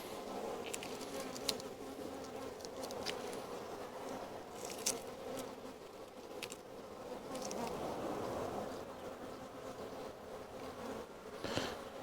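Honeybees hum steadily around a hive, a dense close buzz with individual bees whizzing past now and then.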